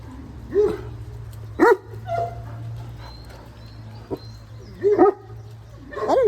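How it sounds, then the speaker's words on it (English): Domestic dogs bark in several separate bursts with short gaps between them, close by and fairly loud, over a steady low hum. "what my animals are barking at"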